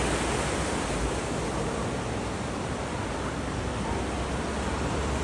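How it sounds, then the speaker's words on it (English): A river on the Appalachian Trail near the Nantahala Outdoor Center rushes under a footbridge in a steady, loud, broadband roar. The wash stays unbroken throughout, with no voices over it. "And I get to see this beautiful river."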